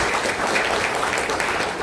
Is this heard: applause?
yes